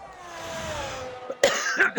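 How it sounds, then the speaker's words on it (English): After a fading tonal hum, two sharp coughs break out close by, one after the other near the end. "Excuse me for coughing."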